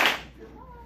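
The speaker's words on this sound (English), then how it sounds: "if you hear me clap once. If you hear me clap twice." A teacher in a classroom gives a single sharp hand clap, loud and close, followed by a faint trailing tone.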